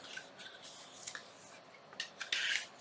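Scissors snipping through fabric for a junk journal cover, a series of close, quiet cuts and slides ending in a longer cutting stroke.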